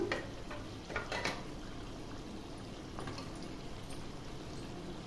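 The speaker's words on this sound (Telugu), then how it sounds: "ఇందులో మనం మిక్సీ పట్టుకున్న ఉల్లిపాయ టమోటా పేస్ట్ వేసేస్తున్నాను" Onion-tomato paste from the mixer going into a pot of boiling chicken curry, a soft steady bubbling and pouring wash with a few brief louder splashes near the start, close and fairly quiet.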